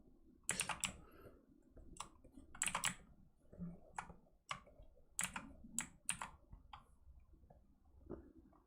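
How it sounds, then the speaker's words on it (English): A computer keyboard is typed on in quick, irregular bursts of clicky keystrokes, heard close but faint, with short pauses between flurries. "that's my keyboard right now"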